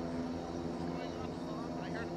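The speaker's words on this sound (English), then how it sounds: "I heard a plane, I was not paying attention." A steady droning engine hum of an airplane passing over in Project Zomboid, a continuous low rumble with layered tones that holds at an even level throughout the short stretch.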